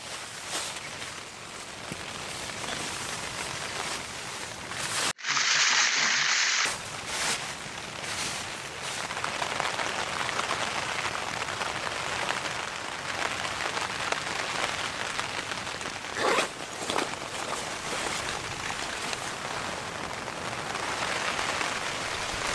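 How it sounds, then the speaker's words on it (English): Steady rain patters on a tent, a dense, even hiss of drops close overhead that runs throughout with one brief break, and no voices. "even when it's raining like this"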